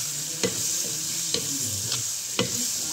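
Boiled waghati, a wild vegetable, is stirred in a clay pot over a constant hiss of sizzling, with three or four distinct scraping knocks of the spoon against the pot, close up and with no voices.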